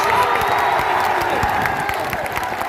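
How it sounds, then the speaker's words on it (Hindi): A crowd at a protest rally claps and cheers loudly, with scattered shouts mixed into a dense, continuous burst of noise. "तालियां मत बजाओ।"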